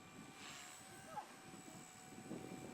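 A Blade 180 CFX radio-controlled helicopter flies outdoors at dusk, its rotor and motor giving a steady, faint whine and hum that rises slightly near the end, heard alone at a distance.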